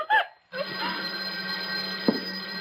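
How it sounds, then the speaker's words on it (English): Telephone ringing as a radio drama sound effect from a 1950s–60s suspense mystery, a single steady bell tone running unbroken after a brief pause, with a short sharp knock partway through. "You, farmer, go answer the phone."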